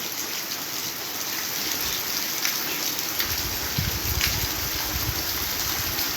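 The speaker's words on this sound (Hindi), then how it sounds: "आज सुबह सुबह हमारे यहाँ बारिश हो रही है आश्रम पे" Morning rain falls steadily at an ashram, a dense even hiss of drops on surfaces with a heavier low patter of water joining partway through, continuous and fairly close without any voices.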